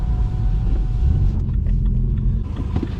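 A BMW 114i car accelerates from 20 to 70 mph, heard from inside as a deep, steady engine and road rumble with no talking.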